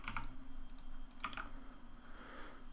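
Typing on a computer keyboard while programming a lighting console, a few quick bursts of soft clicking keystrokes with pauses between them, faint and close, no voices.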